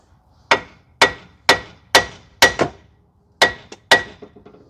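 A hammer strikes the steering knuckle of a 2006 Mazda 3 2.0 to shock an inner tie rod loose. Seven or eight sharp metallic blows ring out at a steady, slightly uneven pace, close and loud, with ringing decays.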